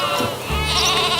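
Sheep bleats from a farm-animal vocabulary lesson, a wavering call held across the short stretch, close and fairly loud with no talking over it.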